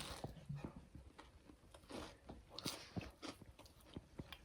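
Someone bites and chews a crunchy homemade pie up close. Quiet crisp crunches come in an irregular series of soft snaps.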